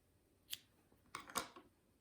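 Scissors snipping yarn during crochet work, a quiet close single snip followed by a quick pair of sharp cuts, faint and isolated against near silence.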